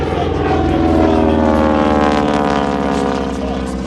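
Airplane engine noise at an Alaska airshow, loud and close, a sustained propeller drone that swells and then eases slightly over a few seconds, with no speech over it.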